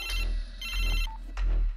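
A phone ringtone sounds in short repeated electronic bursts, close and clear, with no talking.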